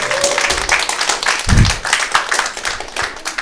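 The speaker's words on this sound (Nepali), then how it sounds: "मेरो लागि पनि ताली बजाइदिनु, म रिसाउँदिनँ।" A Nepali stand-up comedy audience applauds the comedian with a full, sustained round of clapping. The crackle of many hands is fairly loud and continuous, with a brief heavier thump partway through.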